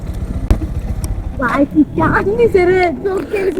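A motorcycle idles with a low, pulsing rumble, carrying children on board, while people talk over it for most of the time.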